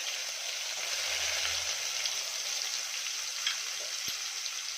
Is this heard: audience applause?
no